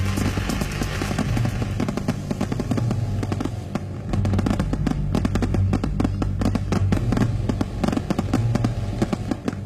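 Dense, rapid fireworks bursts crackle and boom continuously, loud and close, with a steady low rumble beneath the explosions.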